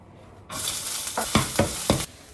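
Food hits hot oil in a pan for an avocado toast breakfast, setting off a sudden loud sizzle. A few scraping stirs follow before it cuts out after about a second and a half.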